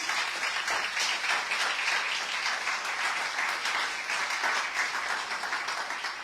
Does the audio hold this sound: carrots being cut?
no